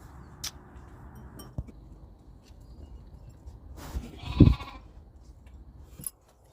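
A single short lamb bleat rises briefly over a quiet background with a few faint clicks and knocks.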